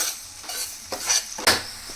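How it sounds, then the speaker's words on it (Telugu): Ginger garlic paste frying in a pan, with soft sizzling broken by several stirring scrapes and clinks of a utensil against the metal, close and moderately loud, no talking. "ఇప్పుడైతే ఈ అల్లం వెల్లుల్లిపాయ పేస్ట్ కూడా పచ్చి వాసన పోయే వరకు ఫ్రై చేసుకోవాలి."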